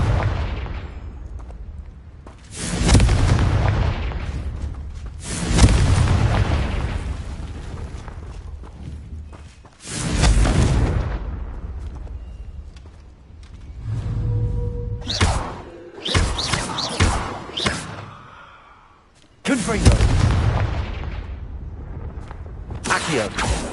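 Confringo spell blasts in Hogwarts Legacy go off as heavy, booming explosions, several loud bursts spaced a few seconds apart with a quick cluster of sharper cracks in the middle, each decaying into rumble.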